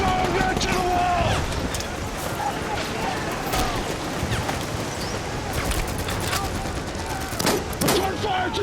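Dense battle gunfire from a war film's D-Day landing, with volleys of rifle and machine-gun shots cracking continuously over a loud roar of wind and surf, while soldiers shout over it.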